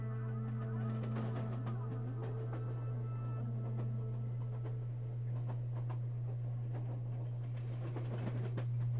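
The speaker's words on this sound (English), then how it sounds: "Some nice little train sounds to end out that song." Train sounds close out a song: a steady low rumble with rattling, clicking wheel noise, held at a moderate level for several seconds with no voices.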